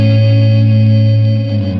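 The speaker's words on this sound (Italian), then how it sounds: "Questa specie di distorsione digitale è il beat crusher" Electric guitar played through a beat crusher digital distortion effect, giving a sustained, gritty, heavily processed chord with reverb and echo that rings steadily and then shifts near the end, with no talking.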